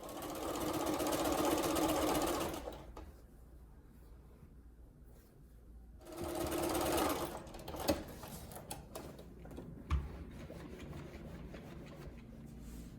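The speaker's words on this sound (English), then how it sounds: "I'm just gonna sew these together and sew the last piece together" A sewing machine stitches quilt pieces together for a small framed flower mini quilt, running in two steady bursts of a few seconds each with a pause between, followed by quieter handling clicks and knocks.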